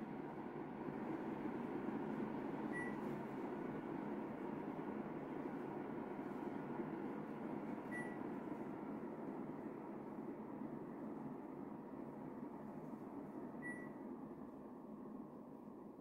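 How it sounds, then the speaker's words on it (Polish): A Japanese split air conditioner running in powerful turbo mode gives a steady, even broadband airflow rush that holds constant throughout, with a few faint short electronic beeps at regular intervals. "Jesteśmy teraz w trybie powerful, czyli w tym trybie turbo i brzmi tak klimatyzator"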